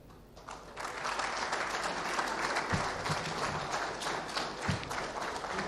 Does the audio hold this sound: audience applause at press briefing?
yes